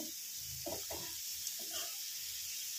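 Spicy bitter gourd (karela) slices fry in a pan with a steady, close hiss and sizzle, broken by a few brief bursts of louder spitting as the pieces are turned.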